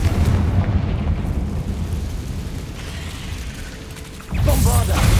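A Confringo fire spell blasts in Hogwarts Legacy, a loud, sustained roaring rush followed by a sharp, heavier burst near the end, with no talk.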